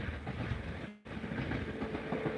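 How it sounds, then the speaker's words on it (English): An electric train rolls past outdoors during a walk, giving a steady broadband rumble with a brief dropout partway through, then carrying on at an even level. "Is that a train? Sounds like a train. That's an electric one."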